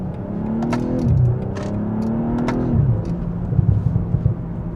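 BMW M340i with a 285 kW petrol engine pulling away and accelerating, heard from inside: a smooth engine note climbing through rising sweeps with two gear changes, steady and close.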